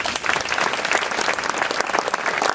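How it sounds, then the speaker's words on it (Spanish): Warm audience applause at a casino hall book and poetry presentation, dense steady clapping from a full room, close and sustained without speech. "Recíbanla con un fuerte aplauso."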